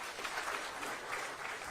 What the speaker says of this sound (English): Charles Mativo, makofi kwake.